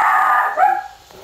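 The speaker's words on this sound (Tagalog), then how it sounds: "sobrang ingay ng aso namin" A dog barks loudly nearby, a sharp bark followed by a shorter yip, with nothing else around it.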